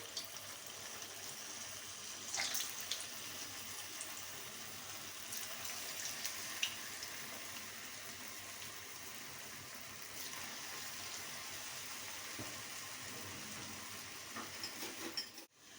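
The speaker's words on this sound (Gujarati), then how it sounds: "હવે આપણું આ તેલ થઈ ગયું છે, આપણે મંચુરિયન બધાય તળી લઈએ।" Farali manchurian balls deep-frying in hot oil in a kadai, giving a steady, moderately quiet hiss and sizzle that runs throughout with a few faint clinks, no talking.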